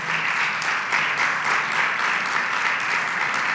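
Sustained applause from a church congregation during a Spanish-language sermon, steady and full throughout with no gaps, a dense wash of many hands clapping together.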